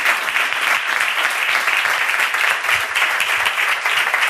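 A live audience bursts into steady, dense applause at the close of a talk in a Spanish-language speaking series, the clapping sustained and even from start to finish with no pauses.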